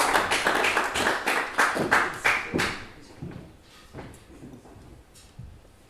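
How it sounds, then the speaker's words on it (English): Applause from a small audience at Factory Space after a poetry reading, a burst of close, uneven clapping that is strongest at first and thins out to scattered claps. "Another round of applause, please."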